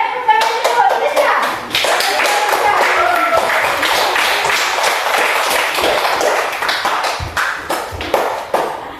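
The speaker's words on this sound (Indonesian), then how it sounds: "Oke, tepuk tangan dulu." A classroom of children claps together in a sustained burst of rapid, overlapping hand claps, loud and close, with a brief lull near the start and voices mixing in.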